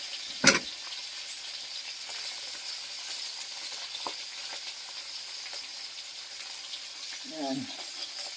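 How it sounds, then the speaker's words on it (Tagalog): Soft, steady sizzling of dried salted fish frying in a pan, close by, with a couple of brief clanks and clatters and no clear talking. "Prito tayo ng tuyo."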